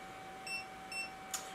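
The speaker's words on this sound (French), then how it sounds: "Le petit bip qui indique qu'on est connecté." Two short electronic beeps in quick succession as a Laser Pecker Pro galvo laser engraver connects, followed by a brief click, against a faint steady hum.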